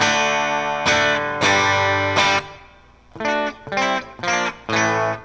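Electric guitar, a 1983/84 Kramer Focus 3000, played clean and dry with a thin, bright split-coil tone: two sustained chords, then four short strummed chord stabs in a steady rhythm.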